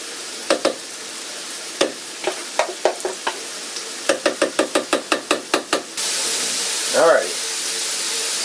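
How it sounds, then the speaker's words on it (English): Mushrooms and ground beef frying in a pan, with a spoon knocking and scraping in short bursts over a steady sizzle, then a louder hiss near the end. "the mushrooms are pretty much done. So is the ground beef"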